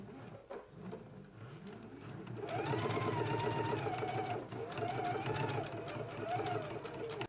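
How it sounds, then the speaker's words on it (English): A sewing machine stitching a jacket seam, a steady whirring hum with rapid needle clatter that starts after a brief pause, runs loudly, dips briefly, then resumes, with a voice speaking quietly. "Let's go ahead and stitch this now."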